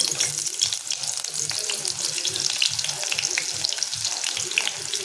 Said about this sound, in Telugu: ఇప్పుడు ఉల్లిగడ్డ తాలింపుకి వేస్తాను.